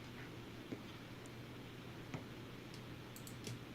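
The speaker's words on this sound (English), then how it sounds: "Oh, sorry, I was typing." Quiet typing on a computer keyboard, with soft scattered clicks and taps over a steady low room hum, faint and fairly close, with no talking.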